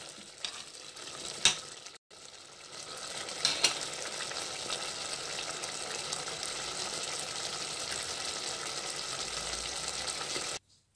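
Red kidney bean curry (rajma) with fresh coriander being stirred in a pan, a soft continuous sizzle with a few clinks of the spoon, no voices.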